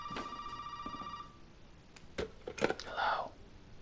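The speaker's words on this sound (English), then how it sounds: "Slightly different phone call." A telephone rings inside the horror video game Resident Evil 7, a short electronic ring heard early and fairly faint, followed by scattered clicks and handling noises and a brief low voice.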